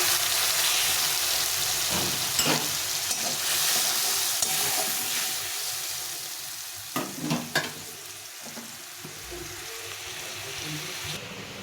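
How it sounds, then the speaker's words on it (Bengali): Spices and tomato stir-fried in hot oil in a home kitchen, with a steady sizzle throughout and a few sharp clinks and scrapes of a spatula against the pan, alone with no voice over it. "টমেটোটা একটু ভাজা ভাজা হয়ে গেছে, এখন আমি মশলাটা দিয়ে দেবো, দিয়ে ভালো করে কষিয়ে নিতে হবে"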